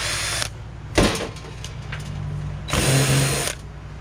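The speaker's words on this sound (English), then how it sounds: "just keep undoing the screws." A power drill whirs in short bursts while backing screws out of a tankless water heater being taken apart for scrap, three close, loud runs separated by brief pauses.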